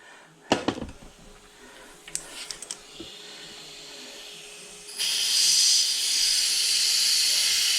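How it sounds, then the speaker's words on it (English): Compressed air leaks from a cracked direct drum of a 4R70W/4R75W automatic transmission during a bench test. A few sharp clicks and knocks come first, then a steady, loud hiss sets in and keeps going. "And I'm barely cracking the air. You see, it's leaking pretty bad"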